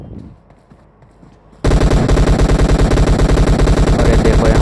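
Automatic gunfire in the mobile game BGMI (Battlegrounds Mobile India) erupts after a quiet stretch of faint in-game ambience, turning into a loud, continuous stream of rapid shots that runs to the end.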